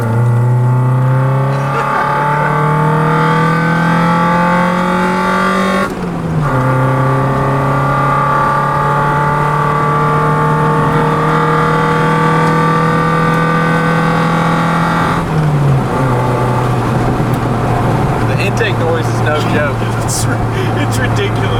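A Honda Civic EF with a swapped D-series MPFI engine pulls hard through first gear, a loud droning exhaust climbing steadily in pitch, dipping at each brief lift around six and fifteen seconds, then rising again.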